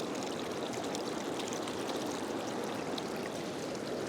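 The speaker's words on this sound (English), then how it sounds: "we're now using it to fill with water straight from the stream." Fast-flowing stream water rushes steadily and close by, a dense continuous gurgle and splash throughout while a bottle is filled, with no distinct pouring change audible and no talking.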